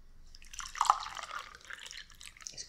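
Green tea poured from a pot into a cup, a brief soft trickle and splash rising and fading over a couple of seconds in a quiet room.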